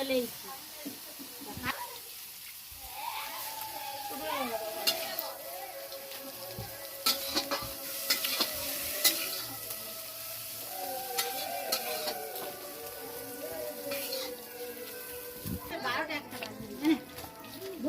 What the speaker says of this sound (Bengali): চিংড়ি মাছ ভাজা হচ্ছে